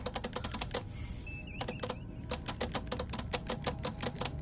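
Rapid keyboard typing clicks in a Star Trek Bridge Crew VR game, a dense run of sharp, close keystrokes with a short pause and a faint electronic chirp midway, then continuing steadily.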